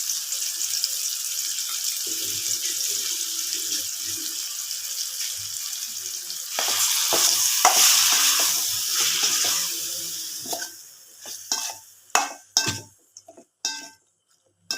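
Marinated soya chunks being stirred into masala in a pan on low flame: a steady hiss of cooking, then a string of loud clinks and scrapes of a spoon against the pan near the end.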